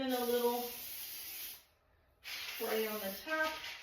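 Two bursts of bright, airy spray hiss from a cooking oil spray can, split by a short pause, with a voice talking underneath.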